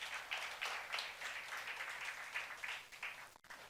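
A congregation claps through a youth-service sermon at Jesus-centered church, a dense, steady patter of many hands heard faint and distant before it cuts off abruptly near the end.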